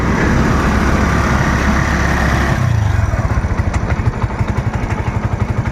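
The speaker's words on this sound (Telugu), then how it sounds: "ఇంజన్ రన్నింగ్లోనే ఉంది" A 2017 TVS Sport motorcycle engine idling nearby with a steady low rumble that settles into a faster, even putter partway through.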